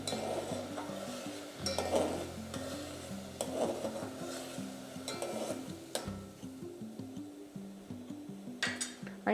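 Jaggery melting in a pan over a high gas flame, stirred with a spoon that scrapes and clinks against the metal amid a soft sizzle, close and continuous without speech.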